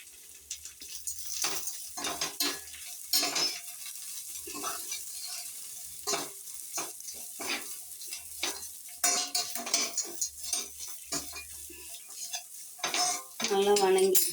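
Grated coconut being sautéed in a pan, a spoon stirring and scraping steadily against the metal with repeated clanks over a soft sizzle, close and continuous.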